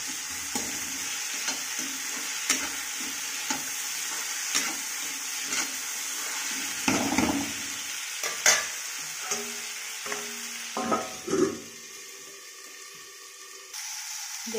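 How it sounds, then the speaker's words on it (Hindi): Chopped tomato is stirred into poha with peas frying in a pan, producing a soft sizzle under scattered spatula scrapes and clinks that grow louder and more frequent near the end. "अब मैं अच्छे से इसको टमाटर को भी इसमें मिक्स कर लूँगी।"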